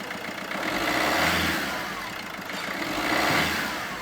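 Close recording of a Fiat Doblo 1.3 diesel engine revving twice, each rise swelling from idle to a louder roar and falling back, with no talk over it.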